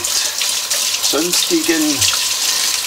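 Tap water runs steadily into a sink, rinsing out a Märklin model train gearbox and its axles, a continuous close splashing rush with someone talking over it.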